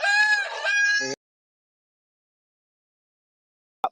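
A rooster crows loudly close by at a homestead chicken coop, one strong crow cut off after about a second, followed by silence and a brief cluck at the end.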